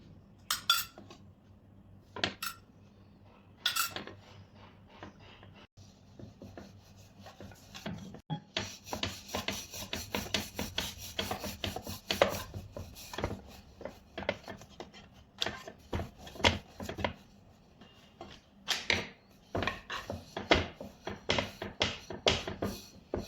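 Thin dashmi flatbread dough, a spiced milk-based roti, being rolled out with a rolling pin, with repeated soft rubbing and scraping strokes and light knocks against the board, up close and without talking.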